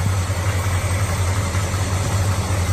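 A 1979 Chevrolet Camaro, a power-steering, power-brake car at a Claremont, NH car show, idles at a steady, even rumble close by, with no pauses and no talk over it.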